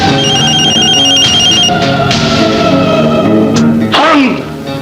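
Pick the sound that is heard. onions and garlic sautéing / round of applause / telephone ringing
telephone ringing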